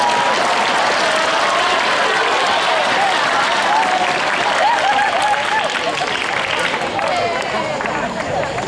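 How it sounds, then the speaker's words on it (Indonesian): Audience applause fills a hall at a religious talk by a preacher, a steady, dense wash of many hands clapping that runs loud and unbroken throughout. "Tepuk tangan loh."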